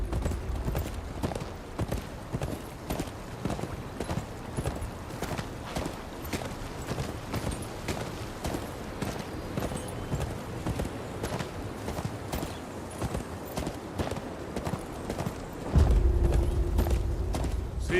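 Steady clip-clop of horse hooves walking at an even pace in the video game Game of Thrones: Kingsroad, fairly close, with a brief low rumble near the end.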